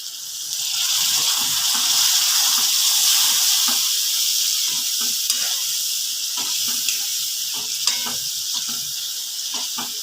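A little water goes into hot oil with tomatoes in a pan for an egg curry, setting off a loud, steady hiss and sizzle that lasts throughout, broken by occasional stirring taps.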